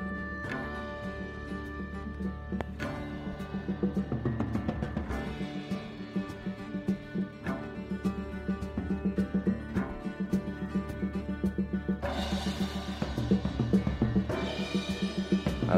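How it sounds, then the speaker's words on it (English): Drums enter a layered instrumental recording built from several bass parts, adding regular sharp hits over sustained plucked strings. The beat grows fuller and louder toward the end, with no voices. "Now here come the drums."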